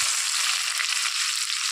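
Chopped onions frying in hot oil with a pan of whole cumin seeds, giving a dense, loud, continuous hiss of sizzling at close range for a brief moment.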